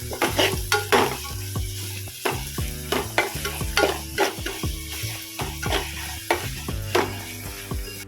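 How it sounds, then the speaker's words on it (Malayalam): Onions frying with salt in a pan for a chicken curry, a rhythmic series of spatula scrapes and knocks over a steady sizzle, close and fairly loud. "ഉപ്പിട്ട് നല്ലവണ്ണം എന്ത് ചെയ്യുക, ഇളക്കി കൊടുക്കണം"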